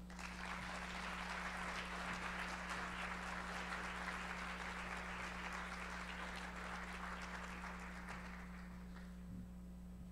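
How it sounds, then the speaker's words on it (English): An audience applauds steadily for about ten seconds at a symposium welcoming Dr. Wayne Lewis, a broad, even wash of clapping with a steady low hum underneath that tapers slightly near the end. "please give me a hand in welcoming Dr. Wayne Lewis"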